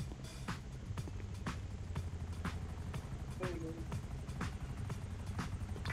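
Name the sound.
helicopter flying overhead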